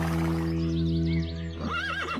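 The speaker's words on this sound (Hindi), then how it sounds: "कुछ भी हो, है तो ये घोड़ा ही ना" Horse neighing in a cartoon: a loud, close whinny with a quavering, wavering pitch rising over a steady low hum, with no speech.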